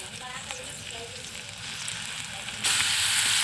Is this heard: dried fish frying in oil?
yes